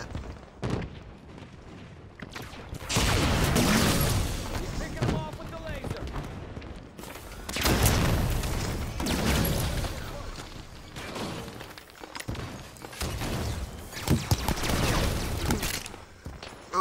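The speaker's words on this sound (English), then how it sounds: "Submachine gun." Submachine gun fire in Halo 5, repeated bursts of rapid automatic shots in a busy game battle, loud and close, with bursts separated by short lulls amid other crashes and booms.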